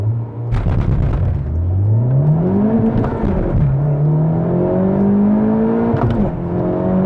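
A Honda Civic Type-R FK8 pulls hard from a standstill to 100 km/h, its engine roaring close up and rising in pitch through the gears, with sharp drops at each upshift before climbing again.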